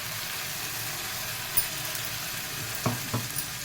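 Ginger garlic paste frying in a pan, a steady close hiss of sizzling oil with a few soft stirring clicks and knocks near the end.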